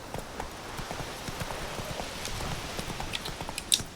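Roach, a horse in The Witcher 3, gallops with a quick, steady clip-clop of hooves at moderate distance, a faint metallic jingle near the end.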